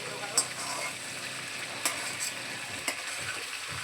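Stuffed bitter gourd (karela), made the UP way, fries in a pan over a high flame, giving a steady broadband sizzle with a few sharp clicks where the pieces are turned or nudged.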